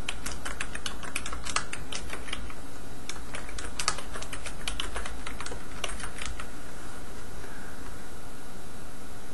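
Rapid typing on a computer keyboard while entering a patient's chief complaint in OpenEMR medical software, a close, steady run of clicky keystrokes that stops after about six seconds, leaving quiet room tone.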